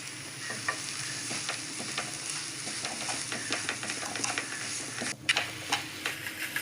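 Semolina and sugar for rava kesari are stirred steadily in a hot pan, giving a soft sizzle broken by repeated scraping strokes. A sharper scrape stands out near the end.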